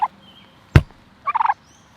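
A garden turkey gives a short gobble near the end, after a sharp thunk close by and a brief earlier call, with quiet between and no talk.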